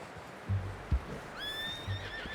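A horse in Red Dead Redemption 2 gives a clear whinny, a rising and falling neigh in the middle, with a few soft hoof thumps and snorts around it, fairly close, no speech.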